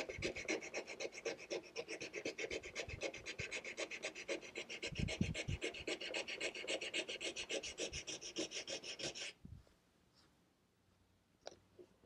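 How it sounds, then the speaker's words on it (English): A sanding block rubbing back and forth over a wooden chair arm, rounding over the edge where the taper meets the flat part: quick, even rasping strokes, close and steady for about nine seconds, then stopping into near silence with a faint knock. "moving the sanding block flat, creating a round over here as we go into going from the taper into the flat part of the arm"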